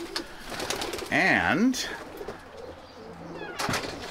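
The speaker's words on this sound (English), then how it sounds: "The feather-footed pigeon." A feather-footed pigeon gives a short, wavering coo at close range, and a person speaks briefly before and after it in a quiet outdoor farm setting.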